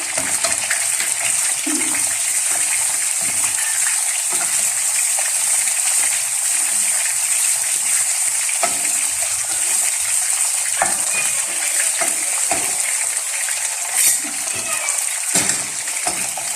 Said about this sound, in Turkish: Bu arada biraz çam fıstığını kızartıyorum.